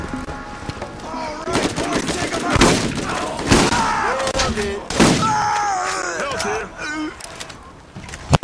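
Gunfire in the video game Borderlands, rapid bursts of shots and thuds mixed with music and effects, with players talking over the action throughout.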